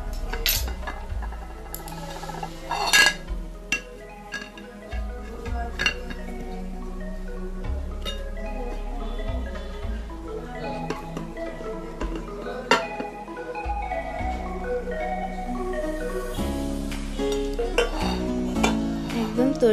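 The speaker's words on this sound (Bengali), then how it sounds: "কেকটা চারপাশে আমি ছুরি দিয়ে একটু কেটে নেব।" A knife scrapes and taps around the edge of a freshly baked red velvet cake in its pan, a series of soft metallic clinks and scrapes close by, with no talking.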